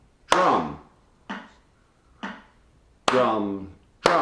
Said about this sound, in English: So you can see I'm still emphasizing the first drum with the cowbell